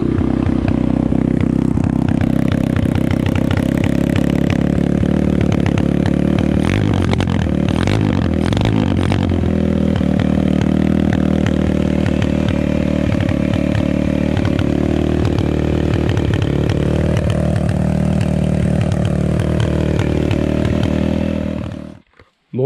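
A 125 or 150 cc dirt bike engine runs close by for over twenty seconds, a loud buzzing idle broken by a few sharp revs in the middle, then cuts off abruptly at the end.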